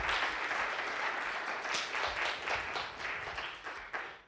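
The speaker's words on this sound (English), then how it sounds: "Please applaud." A church congregation at a youth-led Sunday service applauds volunteers with loud, steady clapping that fills the room, then tapers off slightly toward the end.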